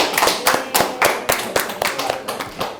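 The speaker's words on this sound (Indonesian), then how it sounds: "beri tepuk tangan untuk kelompok A dan kelompok B" Students in a biology class clapping for two student groups, a small group's rhythmic claps in distinct bursts about every half second, fairly close and loud, with voices mixed in.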